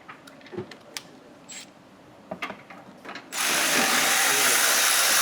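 Ratchet wrench loosening 14 mm sway bar bolts under a Honda S2000 during an engine and transmission removal, with scattered close clicks and clanks followed by a long, loud burst of rapid ratcheting.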